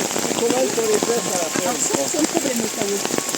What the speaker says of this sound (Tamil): நம்ம மழை வேற பெய்யுது.